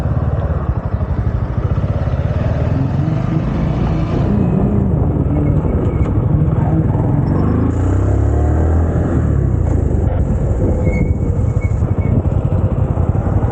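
A car engine revs during a race, a loud, close, continuous roar with rising and falling pitch as the throttle changes, heavy low rumble throughout and no voices.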